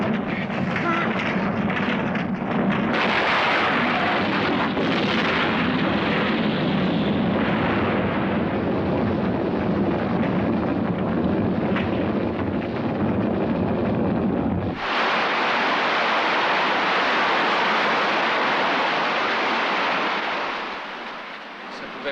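A huge explosion in a 1984 action film rolls out as a loud, sustained roaring rumble for about fifteen seconds. It then gives way to a brighter, hissing rush that fades slightly at the end.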